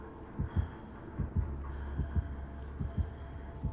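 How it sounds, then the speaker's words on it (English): A steady, throbbing heartbeat pulses in a horror video game, paired thumps repeating about every 0.8 seconds over a low droning hum, close and fairly loud with no talking. "I hear a heartbeat."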